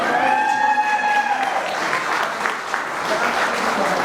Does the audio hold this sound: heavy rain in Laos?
no